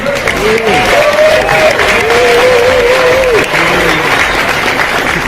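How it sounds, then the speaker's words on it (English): Audience at a crypto summit in Dubai gives applause, a broad steady clapping wash beneath a voice talking over it through the speakers. "You can give applause, it's fine."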